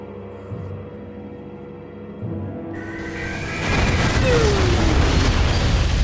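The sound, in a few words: explosion in Metroid Prime 3 video game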